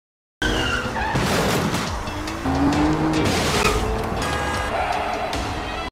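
Tires squeal loudly through a car chase in a Korean drama scene, with a driver trying to ram other cars to knock a motorcyclist down, engines roaring and long skidding whines rising and falling over a continuous, busy vehicle din.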